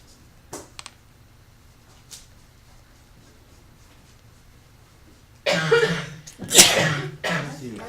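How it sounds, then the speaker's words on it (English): Quiet room with a few faint clicks, then a loud burst of several overlapping coughs and sneezes from a group of people. "All of us sneezing at the same time. Coughing. Coughing."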